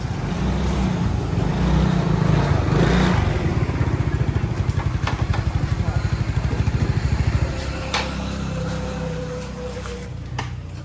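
A scooter engine running rough: a close, uneven idle with a rapid, rattling pulse that steadies partway through, under constant background noise.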